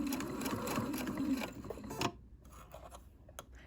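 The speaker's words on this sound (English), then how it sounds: "I'm just stitching probably 1/8 of an inch from the edge here, just close, but so that I get both layers" A sewing machine runs in a steady close whirr, stitching both layers of a corset lace-up panel near the edge, then stops after about two seconds, leaving faint handling sounds.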